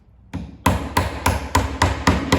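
Hammer driving a nail into a 1x2 wooden stretcher frame, a light tap followed by six sharp, evenly spaced blows, loud and close, each ringing briefly with no voices.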